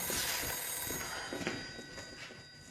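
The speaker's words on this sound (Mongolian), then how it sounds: "Би утас авмааргүй." A telephone bell rings steadily indoors, its bright tone filling the whole moment at moderate loudness with no voices over it.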